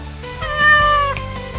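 Cartoon aswang creatures transformed into cats let out a loud, close, drawn-out meow, rising then falling in pitch, alone without talk.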